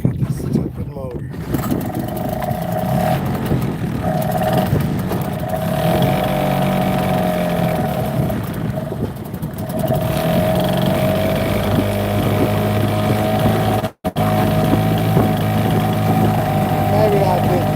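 A small outboard boat motor runs with a steady, droning hum out on the water, close and fairly loud throughout, briefly cutting out for a moment near the end.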